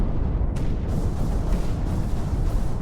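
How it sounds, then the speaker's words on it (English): Explosions in the VR mech combat game Iron Rebellion roll out as a steady, heavy rumble of low booms, loud and continuous, with a sharper blast near the start. "Whoa, look at those explosions."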